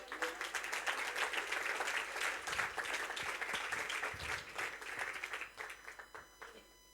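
Church congregation applauding during a Spanish-language sermon, a steady wash of many hands clapping that holds for several seconds, then thins and fades toward the end.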